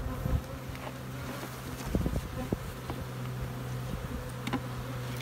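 Honeybees buzzing in front of a weak hive being shaken out and condensed into a nuc, a steady close drone with a few louder thumps and rustles from handling.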